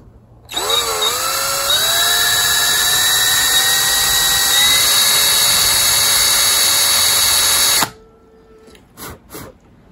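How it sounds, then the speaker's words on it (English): A power drill whines loudly and steadily for about seven seconds while boring lead weight holes in a handmade sea turtle fishing lure, its pitch creeping upward before stopping abruptly, followed by a few brief clicks and knocks. "So I drilled the lead holes over there, put the weights in them"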